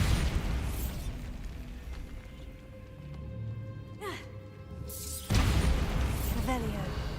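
A Bombarda spell detonates in Hogwarts Legacy with a burst and booming crash over game music and ambience, followed by a second loud blast later on.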